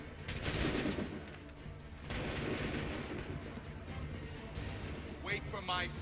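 Gunfire volleys from soldiers in the video game Assassin's Creed 3, dense crackling bursts from a battle line that roll on for several seconds over a loud din, with voices shouting orders through it.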